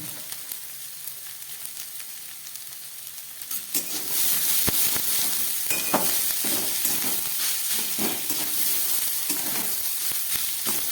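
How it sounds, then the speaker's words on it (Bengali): Vegetables frying in a pan without salt yet, a steady close sizzle that swells louder partway through, with scraping stir strokes and occasional sharp crackles. "সবজিগুলোকে নুন ছাড়া আমি অনেকক্ষণ ভেজে দিলাম"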